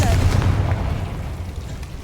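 A Confringo blasting spell goes off in Hogwarts Legacy as a short, dull boom followed by a rough, fading rumble, loud and close.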